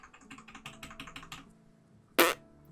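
Keys pressed on a computer keyboard during play of the game Tower of Fantasy, a quick run of close, soft taps followed by one louder, sharper clack.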